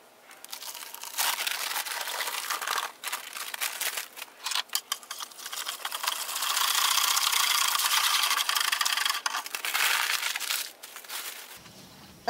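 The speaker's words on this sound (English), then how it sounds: "I'm just going to stir it in and then I'm going to whisk it up" Dry pottery glaze powder is whisked into water in a bucket in a home ceramics studio, a loud, close, rough scraping and churning that surges and pauses in uneven bursts, with no talk.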